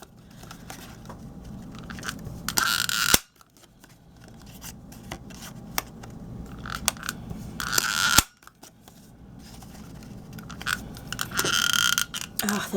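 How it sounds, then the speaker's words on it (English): Fiskars Romantique corner punch pressing through paper corners, giving two sharp crunching snaps among softer rustling and handling noises, close and clear with no talking. "I used this Romantique Fiskars corner punch."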